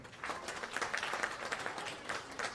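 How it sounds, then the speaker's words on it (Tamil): An audience claps steadily at a book launch event, a crowd's applause filling the space at moderate loudness, continuous throughout. "அவருக்கு ஒரு கைத்தட்டல் கொடுக்குங்க"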